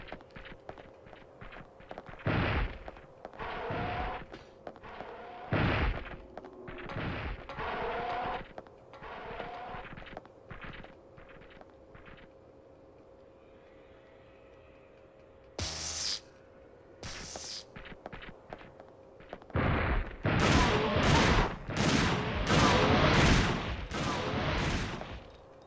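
Shotgun blasts in the video game Dino Crisis 2, a series of loud sharp booming shots, a few spaced out early and then a rapid cluster near the end, alone with no talk.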